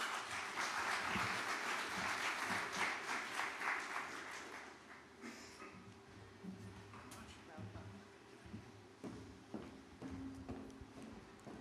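An audience at a tourism resilience conference in Jamaica applauds, with dense clapping over the first few seconds that then thins into scattered claps as a speaker begins talking.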